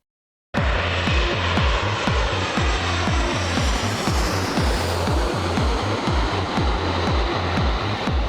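Propeller airplane engine in flight on a trip to Toronto, a loud steady drone with a rapid rhythmic throb, starting suddenly after a moment of silence and continuing close and unbroken.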